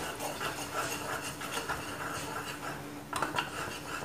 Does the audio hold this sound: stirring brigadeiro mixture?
yes